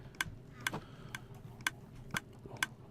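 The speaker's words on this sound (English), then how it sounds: "I just hear it ticking quite a bit" A Minecraft redstone timer on a video game egg farm ticks in a steady, evenly spaced rhythm, six sharp faint clicks over a quiet low background hum.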